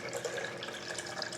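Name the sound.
water poured into a high-speed blender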